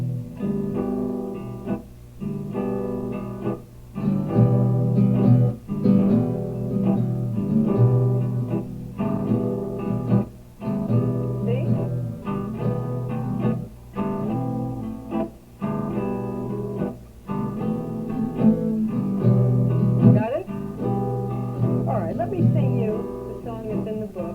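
A guitar strummed in a steady rhythm, chords cut short by choppy muted gaps, played alone and fairly close.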